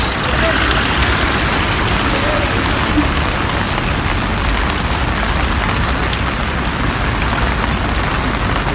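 Heavy rain pours steadily onto a flooded Dubai street, a dense continuous wash of splashing water with faint traffic in the background.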